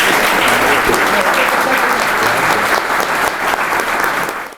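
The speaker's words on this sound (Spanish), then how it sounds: "un aplauso para él" An audience at an event honoring an architecture professor's fifty years of teaching breaks into loud, sustained applause, a steady roar of many hands with some crowd noise, tapering off only at the very end.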